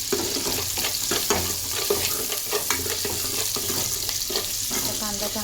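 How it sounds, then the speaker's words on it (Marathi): Chopped onions fry in a pan, a continuous close sizzle with light spoon scrapes and stirring taps throughout, no talking. "आता कांदा चांगला आपल्याला लाल होऊन द्यायचा आहे."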